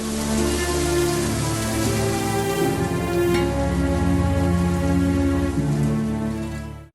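Heavy cyclone rain pours down on waterlogged paddy fields in Telangana, a dense, steady hiss that stays loud and unbroken for several seconds before cutting off, with no voices.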